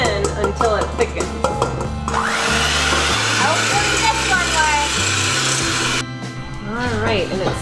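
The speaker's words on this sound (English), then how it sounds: "And then we mix with the whisk attachment again until it thickens" An electric mixer fitted with a whisk attachment whips batter until it thickens, a steady loud whirring drone with shifting pitch and rattling, heard under a speaking voice for most of its length.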